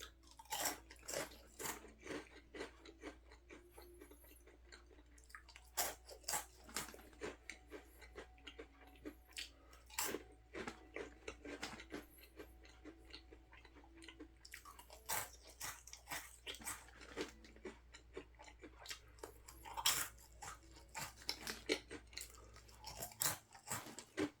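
Someone eats a crunchy French-toast-flavored Petit Paris roll bread baguette snack up close, with sharp, scattered crisp bites and quieter chewing crunches spread irregularly across a quiet background, and no talking.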